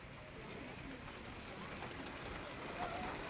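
Heavy rain pours steadily outside at Laitlum Canyon in Meghalaya, a dense, continuous wash of drops without pause.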